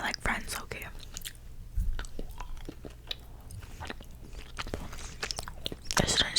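Sticky, wet chewing on a mouthful of caramel, close and intimate in a quiet room, with soft mouth clicks and a few whispered words between bites.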